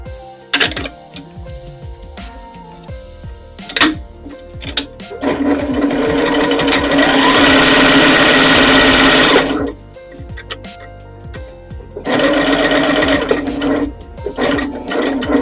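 A sewing machine runs a straight quarter-inch seam for a braided twist quilt project, with short bursts of stitching followed by a long steady run of about four seconds and another burst near the end, loud and close with no talk.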